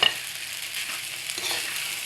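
Egg noodles with their spice mix and added tomato fry in a pan while being stirred, a steady close sizzle with light scraping running throughout, with no talking.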